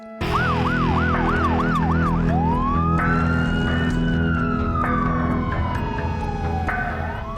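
Loud wailing police escort sirens in West Texas, one yelping then a long rising and falling wail, sounding close and continuous over a low engine rumble.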